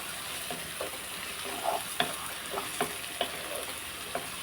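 Onions sizzle softly in a pan for a mutton and egg curry, with a low continuous frying hiss broken by light scattered taps and scrapes of stirring.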